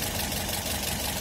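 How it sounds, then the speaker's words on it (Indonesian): A 2016 Toyota Yaris G with a 2NR-VE inline four-cylinder 16-valve engine idles in a steady, unbroken drone, close and fairly loud, with no talking. "Untuk mesinnya, Toyota Yaris G tahun 2016 ini menggunakan mesin 2NR VE"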